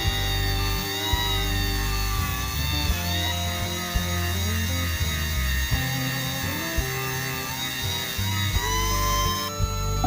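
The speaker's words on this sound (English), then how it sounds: "My first attempt to grind down the rivets and use my punch to pound the rivets out didn't work out so well." Rivets on a worn vintage brass lock being ground down with a power tool: a steady, loud, whining mechanical drone with shifting tones that continues throughout, with no talking.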